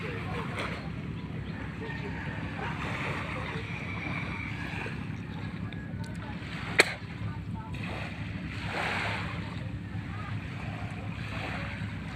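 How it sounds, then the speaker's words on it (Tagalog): Sea waves wash onto a sunny beach in the Philippines, making a steady broadband surf roar with wind buffeting the microphone. The sound is continuous and moderately loud, with one brief sharp knock partway through. "Malaki pala ang dagat ngayon."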